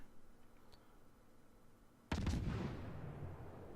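A warship's main-gun salvo in the naval battle game World of Warships erupts as one sudden, heavy boom after a quiet stretch, then rolls off in a long fading rumble.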